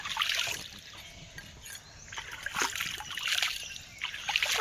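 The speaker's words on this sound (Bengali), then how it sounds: "পরিষ্কার জল দিয়ে ঝিলের পুকুর থেকে ধুয়ে নিয়ে আসবো।" Fish pieces being rinsed by hand in pond water, with irregular close splashes, sloshing and dribbling water continuing throughout, rising and falling in bursts.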